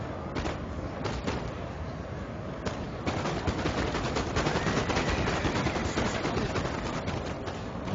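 Volleys of musket fire from skirmishers in a Napoleon Total War battle, dense crackling shots rolling continuously with a few sharper cracks standing out.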